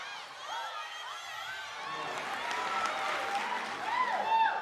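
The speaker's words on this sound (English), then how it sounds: "these crowd sounds are from actual live recordings, and some of these files are actually from my church" A live church audience crowd murmurs, claps and calls out in a steady, dense wash that swells toward the end, blended with melodic gospel vocal lines rising over it.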